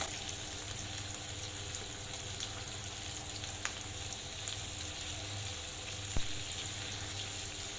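A homemade steak sizzles quietly as it grills, a soft, steady crackling hiss with an occasional small pop, heard alone without talk.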